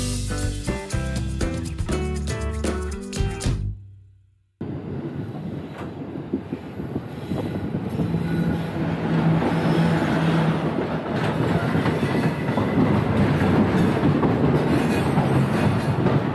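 Inside the moving Pune–Howrah Azad Hind Express, a steady loud rumble of wheels and carriage noise with rhythmic clatter fills the cabin after a short burst of music cuts off.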